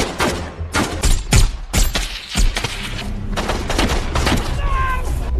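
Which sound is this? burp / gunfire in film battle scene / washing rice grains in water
gunfire in film battle scene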